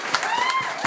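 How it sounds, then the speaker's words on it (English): Audience applause for Jack's performance at an evening speech event, a dense wash of clapping with a whoop-like tone running through it, fairly loud and close, with a few sharper claps standing out. "How about a round of applause for Jack's performance tonight"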